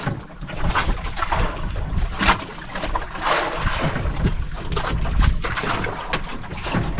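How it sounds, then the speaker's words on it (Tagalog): A boat motor drones steadily and loudly throughout, with broadband rumble and splashing water noise, no speech over it. "Start natin yung makina ni Landina."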